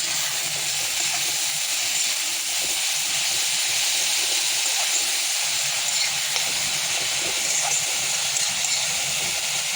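Greens seasoned with salt and turmeric fry in a pan for a fish recipe, giving a steady, continuous sizzling hiss at close range with no talk over it.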